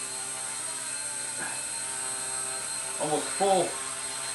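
A small Blade mCPX RC helicopter whines steadily as it takes off and hovers, its high motor tone running continuously while someone talks briefly nearby.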